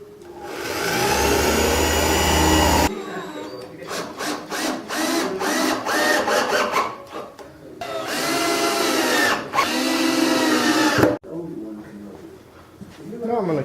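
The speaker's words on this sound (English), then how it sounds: "So now let's go ahead and put some screws in this." Power drill driving screws into a wooden table saw sled, with bursts of high-pitched whirring motor and rapid stuttering clicks, close and loud, separated by brief pauses as someone talks.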